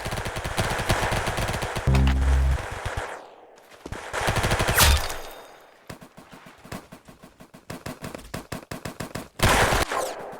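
Loud automatic gunfire from a video game shooter, repeated bursts broken by short pauses and a few single shots, close and without talk.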